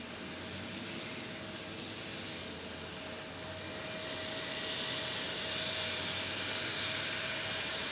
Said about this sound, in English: And we got a plane coming in from Phoenix, Dallas, and Atlanta.